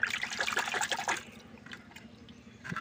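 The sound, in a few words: washing tilapia fish in water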